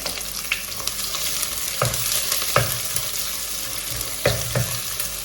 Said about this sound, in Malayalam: കടുക് പൊട്ടിയതിൽ ഇനി ഞാൻ ഒരു വറ്റൽ മുളകും വലിയ ഉള്ളി പകുതി മുറിച്ചതും കൂടെ ഒന്ന് വഴക്കണ്ട്